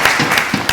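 A brief, loud burst of audience applause on a French-language talk show, dense clapping heard close and alone.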